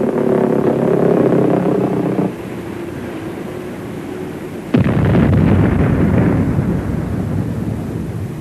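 Wartime anti-aircraft guns firing in London make a heavy, continuous rumbling barrage of booms, loud and dense, dropping briefly to a lower rumble before a sharp fresh blast restarts the roar.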